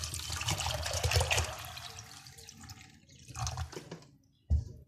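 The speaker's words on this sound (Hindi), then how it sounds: "कुकर के अंदर ये सारे लोबिया डाल के, 1 लीटर पानी डाल के" About a litre of water pours steadily into a pressure cooker holding red kidney beans, a close continuous splashing fill that tapers off, followed by a brief clunk.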